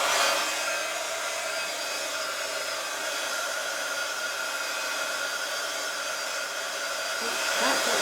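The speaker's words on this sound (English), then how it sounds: "take your hot tool, your heat gun, and just give it a quick blast." A heat gun blows in a steady, close, continuous whoosh to melt away stray embossing glue strings on handmade cards, holding level for the full eight seconds.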